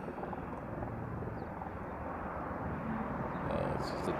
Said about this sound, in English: It's just a Tor helicopter.